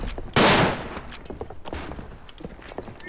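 A loud burst of MG34 machine gun fire rips out in the World War I shooter Verdun, followed by scattered nearer and distant shots and thuds in the battlefield din.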